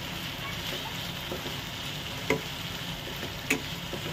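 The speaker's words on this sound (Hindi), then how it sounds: "ये अच्छे से भूनेंगे" Masala being sautéed in a pan for chicken seekh biryani, a steady low sizzle and stir with two sharp scraping clinks of a spoon against the pan, no talking over it.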